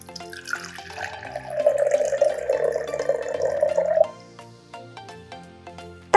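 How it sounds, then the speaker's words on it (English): Water poured from a tap-like stream into a jar for a preschool lava lamp experiment, a steady, fairly close splashing and filling sound for about four seconds, then quieter drips and clinks before a sharp knock at the end. "That's how much water I put in."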